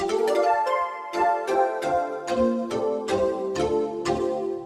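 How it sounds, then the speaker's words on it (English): Layered synth pads with a breathy flute-like tone play a sequence of sustained chords, each note starting with a soft attack, with no talking. "Put them together, they sound like this."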